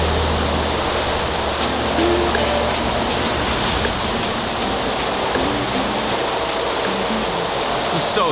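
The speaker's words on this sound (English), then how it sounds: "It's a little loud in here, mainly because they're running aerators." Aerators run steadily in an indoor trout hatchery full of brook trout, a loud continuous rushing, bubbling wash like falling water that fills the space throughout, with faint voices beneath it.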